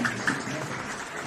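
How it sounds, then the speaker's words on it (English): A crowd at a Victorian state league men's football match between Bentleigh Greens and Northcote City gives a warm, steady round of applause for a substituted player, a diffuse wash of clapping held at an even level throughout. "he gets a warm round of applause as he takes his lead"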